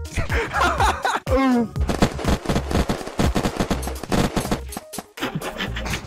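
Rapid gunfire from a video-game gun fitted with a paintball suppressor, in a roleplay server, popping as quick sharp bursts amid a busy mix of other game sounds.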